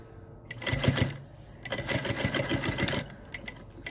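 A sewing machine stitches a pleated fabric face mask in two close, rapid runs separated by a short pause, with a rhythmic mechanical chatter.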